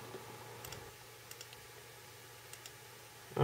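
Faint clicks of a button pressed on a BlackBerry Curve 9300 phone, a few light ticks spaced apart, close and quiet over a low steady hum, ending in a louder thump.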